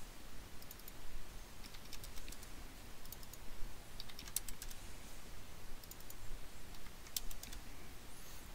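Typing on a computer keyboard while setting up Logitech gaming software, quick bursts of sharp clicks in irregular clusters over a steady low background hum, with no talking.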